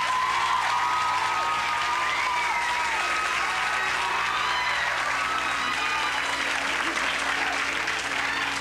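A sideshow audience claps at a glass-eating show, a dense, sustained wall of applause from many hands that stays loud and even for the whole stretch, with faint voices and cheers mixed in.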